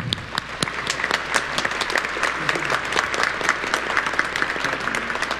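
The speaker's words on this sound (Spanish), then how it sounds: "Los recibimos con un caluroso aplauso." Congregation applause at a Catholic Mass welcoming visiting pilgrims from Gran Canaria, a steady, moderately loud wash of many hands clapping that holds for several seconds with no talk over it.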